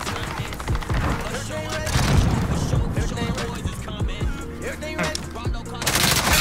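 Video game gunfire, with rapid machine-gun bursts and single shots packed tightly together, plus booms underneath, runs loud and nearly continuous. A few voices come in faintly beneath the shooting.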